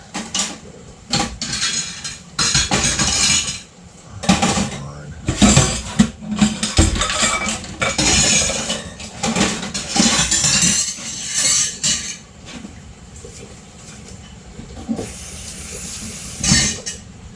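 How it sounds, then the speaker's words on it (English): Sweet peppers being sliced with a knife on a board amid kitchen canning work, irregular chopping knocks and clinks of dishes and utensils, some louder clattering bursts between quieter pauses. "So we're going to cut these into nice little slices."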